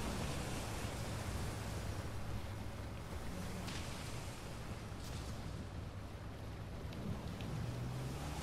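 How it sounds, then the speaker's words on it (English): Steady rain in the video game Uncharted 4, a dense continuous wash of noise with a low rumble beneath, holding evenly throughout with no voices. "It's rainy there."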